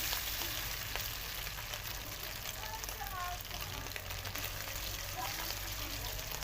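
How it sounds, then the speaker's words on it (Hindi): Cornflour-coated chicken pieces fry steadily in hot oil, a continuous dense sizzle with faint crackles, close and unbroken throughout. "इस तरीके से हम फ्राई करेंगे, ताकि जो कॉर्नफ्लोर इसके ऊपर लगा हुआ है वो ज़्यादा सारा इसके अंदर ना जाए"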